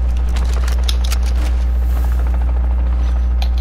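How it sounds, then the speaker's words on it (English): A bomb drone in the Call of Duty DMZ game on the Ashika map, a steady loud mechanical whir and buzz with rapid clattering bursts over a constant low hum. "Bomb drone."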